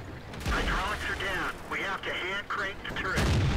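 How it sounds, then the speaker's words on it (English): Artillery shell strikes a tank in the World of Tanks game, with a sharp blast at the start and metallic impact sounds, while someone talks over the noise throughout. "Gets hit by the artillery there"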